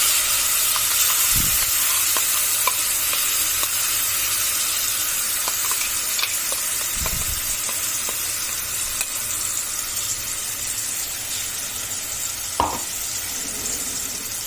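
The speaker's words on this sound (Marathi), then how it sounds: "तेल आपलं छान तपलेलं आहे तर त्यामध्ये आपल्याला हे मिक्सरला वाटलेली चटणी घालून घ्यायची आहे तेलामध्ये" Steady sizzle of ground wood apple chutney, blended in a mixer, frying in hot oil, with a few soft knocks and scrapes of a spoon; no voices.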